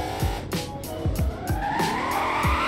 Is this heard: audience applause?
no